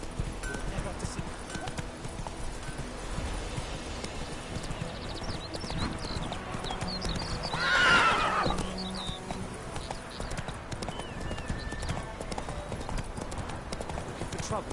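Roach, the horse in The Witcher game, gallops in a steady, rapid clip-clop of hooves, with a whinny and a brief swell midway and voices speaking over the hoofbeats.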